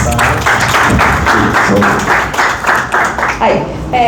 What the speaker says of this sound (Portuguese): palmas pro Caio